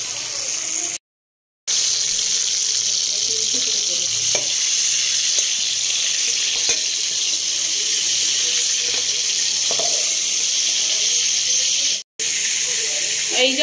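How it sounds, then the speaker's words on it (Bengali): Prawns fry lightly in a pan with a steady, loud sizzling hiss, broken by a brief gap and a short dropout, with a few soft scrapes of stirring. "জাস্ট হালকা করে একটু ভেজে নেব"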